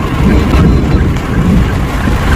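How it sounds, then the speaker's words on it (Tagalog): Heavy rain drumming loudly with a deep, rumbling wash, as if heard from inside a vehicle; steady and close, no talking. "Lakas ang ulan."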